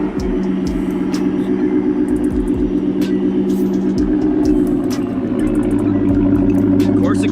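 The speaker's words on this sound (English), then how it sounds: "let's get a cold start on the F150 exhaust" A Ford F150 truck's engine runs at a steady idle through its exhaust, a deep continuous rumble close by with a slight throb and no voices over it.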